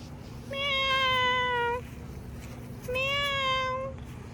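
Two drawn-out, clear cat meows, each over a second long, separated by a short pause, heard close over a steady low background hum.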